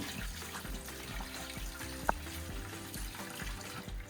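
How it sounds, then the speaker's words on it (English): A tap runs steadily while hands are washed at a sink, giving a continuous close trickle and splash of water with one brief knock partway through and no talking. "Let me just wash my hands."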